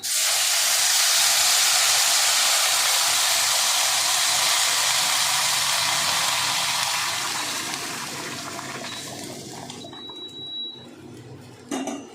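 Hot water poured onto fried dal in a pot sets off a loud, steady hiss of steam and sizzle that holds strongly for about eight seconds, then fades and thins toward the end, with a faint clink near the close.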